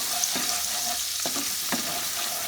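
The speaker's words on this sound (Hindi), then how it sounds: "मसाला का पेस्ट अभी कढ़ाई के अंदर ये देखिए चला गया।" Masala paste for paneer rogan josh sizzles and fries in a kadai, a constant crackling hiss with a few soft scraping stirs mixed in.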